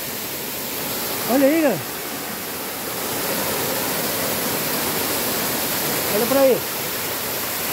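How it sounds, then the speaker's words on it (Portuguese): The Água do Jacutinga waterfall roars as a constant, dense rush of falling water, close and loud, while people talk over it now and then. "Como que é o nome dessa cachoeira"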